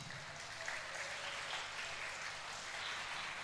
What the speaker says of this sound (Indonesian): Tepuk tangan untuk Ina Kamis.